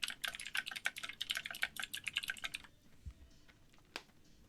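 A clicky computer keyboard rattles off a fast, steady run of keystrokes up close. The typing then stops, leaving a quiet gap broken by a couple of isolated clicks and a thump.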